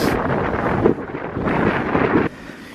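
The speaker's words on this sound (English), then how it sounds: "It's windy." Strong wind buffets the microphone on a winter mountain summit in the Adirondacks' MacIntyre Range, a loud, continuous roar with gusty swells and no talking.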